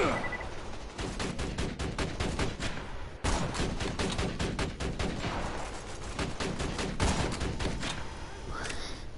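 Rapid gunfire from a weapon in the shooter game Borderlands 2 rattles off in dense bursts, loud and close, with a brief pause partway through and a rising electronic tone at the end.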